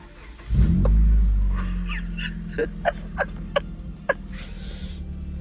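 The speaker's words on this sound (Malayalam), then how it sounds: "നിങ്ങൾക്ക് കേൾക്കാൻ പറ്റുന്നുണ്ട് ഒരു ബാസി ആയിട്ടുള്ള ഒരു ഹയർ മറ്റേ സിലിണ്ടറുള്ള അല്ലെങ്കിൽ ഒരു ഹയർ സി സി ഉള്ള ഒരു എഞ്ചിൻ്റെ ഒരു ബാസി നോട്ട്" A car with a larger, higher-cc engine sits in neutral and starts with a loud, bassy burst, then settles into a deep, steady idle. Several sharp clicks and taps sound over the idle.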